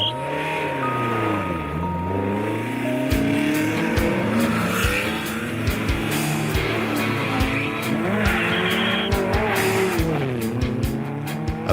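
Historic Renault 4 rally cars race along a stage of the Monte-Carlo historic rally. Their engines rev hard and shift through the gears as the cars pass close one after another, with occasional tire squeal and crowd noise behind them.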